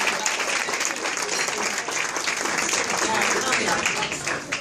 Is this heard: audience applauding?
yes